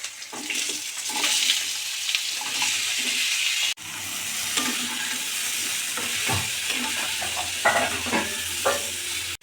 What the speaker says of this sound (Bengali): এবার কুমড়োটা দিয়ে দেব